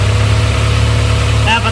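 A 1997 Honda Accord idles steadily up close with its auxiliary cooling fan running, a constant low engine hum and fan whir with a brief higher chirp near the end.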